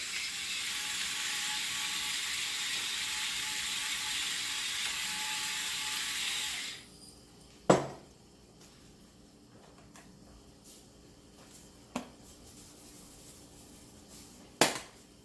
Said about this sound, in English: And now it's starting to simmer.